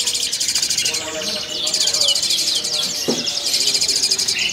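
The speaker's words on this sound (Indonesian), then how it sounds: "Loloan Jalak Suren ready banyak ya, stok kurang lebih ada 50 ekor." Many Javan pied starlings call at a bird seller's kiosk, a dense chorus of rapid, chattering chirps and whistles close by and fairly loud, with other birds and possible insects mixed in.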